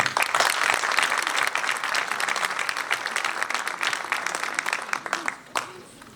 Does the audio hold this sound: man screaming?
no